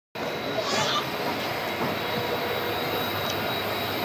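A WDG4D diesel locomotive hauling the Rajkot-Porbandar Express rumbles steadily with broad rolling noise and a thin high squeal, close and sustained after an abrupt start.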